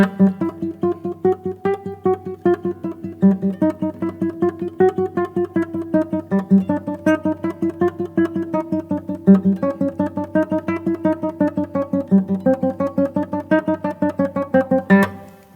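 Rapid classical guitar tremolo played with I-M-A fingers, a steady stream of evenly repeated plucked notes over a moving bass line, played alone and up close.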